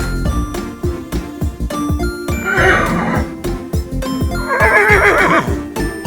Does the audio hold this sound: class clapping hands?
no